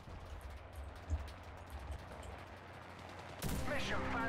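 A machine gun firing in the Enlisted World War II shooter game, a steady dense rattle of rapid shots continuing throughout, with a louder, heavier burst near the end.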